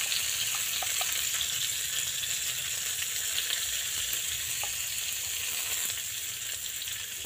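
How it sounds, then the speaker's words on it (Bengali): Drumstick stalks fry in a hot pan with oil for a Bengali chorchori, giving a steady close sizzle throughout with faint clinks of stirring and no talking. "ভালোভাবে এটা একটু নাড়াচাড়া হোক 5-7 মিনিট"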